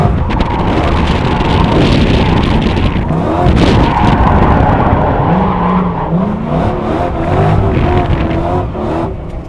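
Loud, close engine of a GT500-swapped Ford F100 drifting, revving continuously with throttle blips rising and falling, accompanied by squealing tires skidding across pavement.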